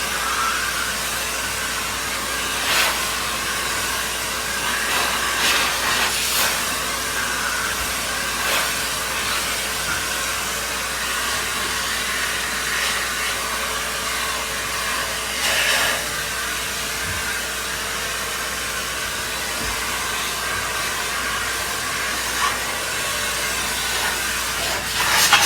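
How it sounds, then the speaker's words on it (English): A vacuum cleaner runs steadily while sucking dust off a ceiling fan indoors, giving a continuous loud hissing whoosh with slight shifts in pitch as the nozzle moves, and no voices over it. "ceiling fan's been vacuumed"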